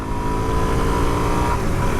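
A Suzuki DR-Z400S dual-sport motorcycle rumbles along at low road speed, its engine drone steady and close with wind noise and no talking.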